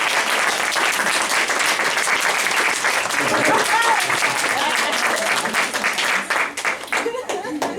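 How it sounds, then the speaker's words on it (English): An audience at a magic and dance show breaks into loud, sustained applause with many hands clapping, thinning and tapering off near the end while a voice briefly comes through. "Give me a big round of applause."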